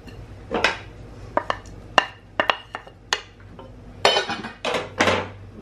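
Chopped onion, tomato and green chilli tipped into a pressure cooker over mutton for karela gosht, a series of sharp metallic clanks and knocks from pot and utensil, irregular and close, with quiet pauses between.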